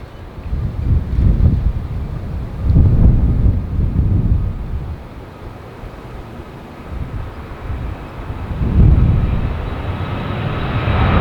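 A Hawaiian airliner takes off from runway 2 near the beach, heard as a loud, deep roaring jet engine rumble that swells and fades in waves, mixed with gusty wind noise on the microphone and no talking.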